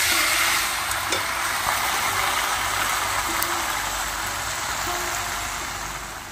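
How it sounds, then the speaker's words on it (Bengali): Chicken pieces with papaya and potato being stir-fried in a pot over a village clay stove, a continuous close sizzle with scraping stirs, slowly fading a little toward the end, no talking. "আর তারপরেই আমি পেঁপে আর আলুটা দিয়েই কষাচ্ছি।"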